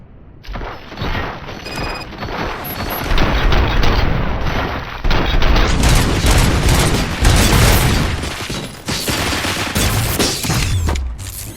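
Sustained gunfire and heavy explosions from the video game RoboCop: Rogue City, loud and dense throughout with rapid bursts and booming blasts, no speech.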